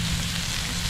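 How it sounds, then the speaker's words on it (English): A rib eye steak sears in a piping hot cast iron pan, giving a loud, steady, close sizzle that holds unbroken throughout. "We gotta get this cast iron piping hot. All right, here it goes. Steak in."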